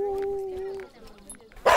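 A dog gives a drawn-out whining yelp and then a short bark, close and clear, with a voice nearby.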